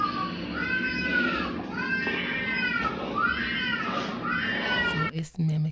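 Inside a home at night, a creature mimics a little girl crying with a series of rising and falling wailing cries, loud and close, before a short burst of other noise at the end.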